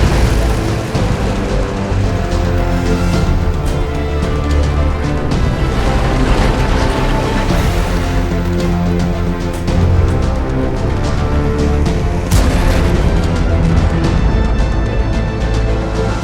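Dense orchestral battle music from the tank combat game World of Tanks plays steadily and loudly throughout, with layered low brass and percussion hits and no talking.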